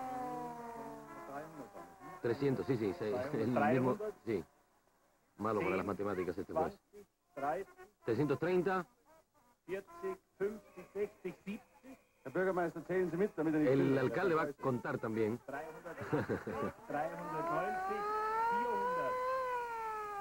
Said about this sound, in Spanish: Hay una sirena ahí también.